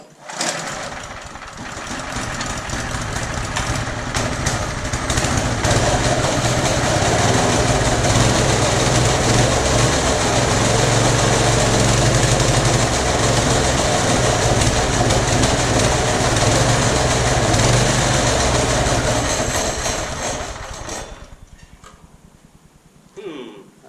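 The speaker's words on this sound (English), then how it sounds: "I don't know if you guys can hear it. It's backfiring. It's backfiring a whole lot." Small engine fired up on full choke runs rough and backfires, a sustained close mechanical drone with irregular pops and crackles that dies away at the end.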